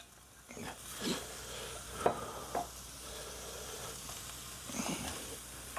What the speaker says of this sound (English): Now we're going to get the onion and the pepper in, the green pepper, just for a couple of minutes